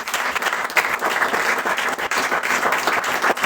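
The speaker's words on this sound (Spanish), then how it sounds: "Dale un fuerte aplauso al Rey de Gloria." A church congregation gives a loud, dense round of applause that stays steady and close throughout, with no talking over it.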